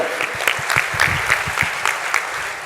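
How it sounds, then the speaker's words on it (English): A crowd at a Bharatanatyam arangetram applauds for guests of honor, a loud, steady burst of many hands clapping that carries through the whole stretch with a faint voice underneath. "they deserve a big round of applause"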